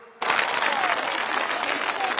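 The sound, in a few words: crowd applauding loudly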